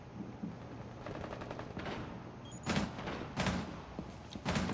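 Gunfire comes through a window in Rainbow Six Siege as a scattering of muffled bursts and single shots. Several sharper cracks stand out over steady background noise.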